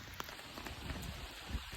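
Rain falls steadily on a tarp over a hammock camp, giving a soft continuous patter with a few slightly louder drops, faint and close with no talking.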